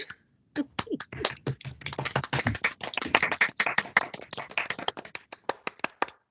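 Small online group of participants clapping for an online café session, a sparse start building into a quick round of many clapping hands, then thinning out into a few scattered claps.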